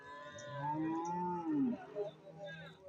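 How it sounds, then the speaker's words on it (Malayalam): Cattle at a buffalo and cow market, one animal giving a single drawn-out moo that rises and falls over about two seconds, fairly close and clear above low background murmur. "പശു മൂരി പോത്തുകളൊക്കെയാണ് ഈ ഭാഗത്ത് നിൽക്കുന്നത്"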